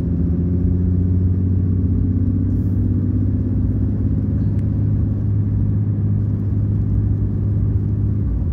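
A 2021 Ram 3500 HO pickup truck's diesel engine drones low and steady while cruising on a flat highway, with no clear gear shift heard.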